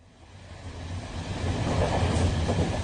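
Interior of a moving passenger train bound for Newcastle, a steady low rumble with rattling carriage noise that swells gradually in loudness, no voices present.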